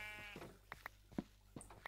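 Sheep in the Minecraft Minecolonies mod bleat several times in short bursts over a quiet background, with no one talking.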